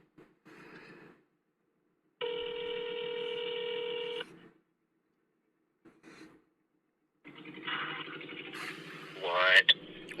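A telephone call on a landline handset, a faint line hum and a long steady dial or ringback tone between quiet gaps, then the line picks up into muffled talk and noise.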